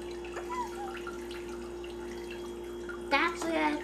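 Clean water trickles and drips into a child's toy kitchen sink play set, with a faint steady flow under a voice and a steady hum behind.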